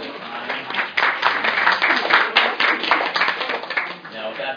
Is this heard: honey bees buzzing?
no